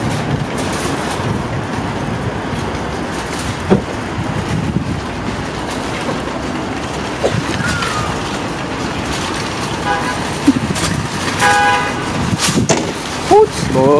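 A parked car's horn gives short toots to show where it is, in a Los Angeles parking area on a grocery run. The brief honks come late, over a loud, busy wash of traffic and outdoor noise.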